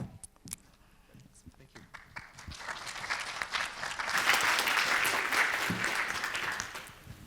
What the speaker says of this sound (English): I haven't spoken and I'm already getting an applause